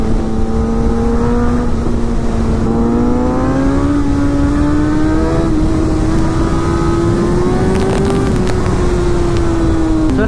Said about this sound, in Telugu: ఈ 10Rని మీరు స్పెసిఫిక్గా without DB killer in person వినాలి